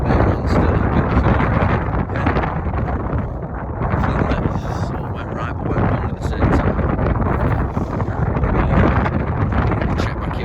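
Strong wind blasting across an open Lake District fell on Stony Cove Pike in winter, a loud, continuous roaring buffet battering the microphone with rising and falling gusts and no letup.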